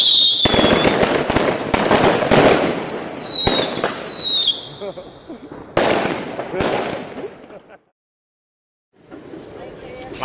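Witch's ring fireworks going off, a dense run of crackling bursts and whistling fizzes, close and loud, stopping abruptly into silence before more crackle resumes, with voices mixed in.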